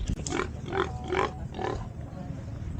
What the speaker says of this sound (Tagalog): Yung baboy galit.